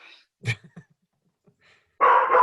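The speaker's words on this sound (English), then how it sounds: "so y'all don't hear all this barking" A dog gives a couple of short, sharp barks and yips close by, separated by brief silence, before a burst of louder noise cuts in at the end.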